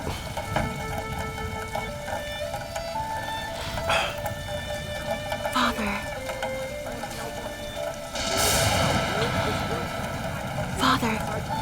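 A steady, loud drone fills an airplane cabin in flight, with hiss and brief knocks, while a voice talks over it.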